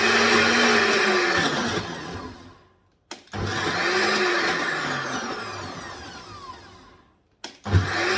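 A kitchen blender chops okra in two loud whirring bursts, each winding down with a falling pitch, separated by a short pause and followed by a brief restart at the end.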